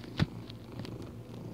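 A cat purrs close by in a low, steady rumble, with a brief louder thump near the start and no voices.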